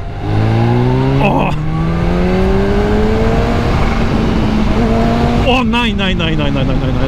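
A Kawasaki Ninja H2 motorcycle pulling away from idle in third gear and accelerating, its engine rising in a long, loud climbing drone with a second surge near the end, close up, while people talk over it.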